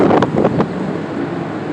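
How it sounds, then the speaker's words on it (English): Wind buffets an outdoor microphone on the Las Vegas Strip, a loud, continuous low rumble with a few short gusty bumps near the start, then an even roar. "I'm sorry if you hear wind"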